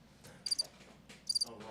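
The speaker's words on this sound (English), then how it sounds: "Crickets." Two short bursts of cricket chirping, high and trilling, faint and brief over a quiet background.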